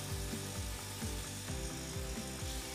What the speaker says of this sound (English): Set the tool in the gouge jig with the tool on its side, push upwards and roll the tool to the other side.